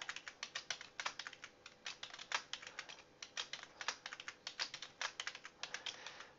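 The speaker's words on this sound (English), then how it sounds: "Sorry if you're hearing my mechanical keyboard." Rapid clacking keystrokes on a mechanical computer keyboard, steady irregular typing rhythm close to the microphone with no voices.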